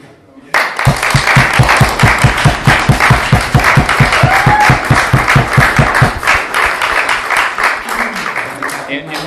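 Audience at a book launch breaking into loud, rhythmic applause that starts suddenly and holds steady for several seconds before thinning into scattered claps as the room settles.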